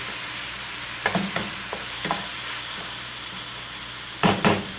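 Ground meat browning in a pan for a keto dish, a constant low sizzle close by with a few sharp scraping stirs, a tight pair of louder scrapes near the end, no talking.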